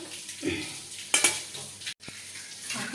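An egg cooks in a pan in a home kitchen, with a soft, continuous sizzle broken by a few sharp utensil clinks against the pan near the middle and a short gap of silence.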